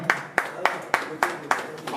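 Audience at an investiture ceremony in Grenoble clapping in unison, a steady rhythmic beat of about three claps per second, fairly close and distinct.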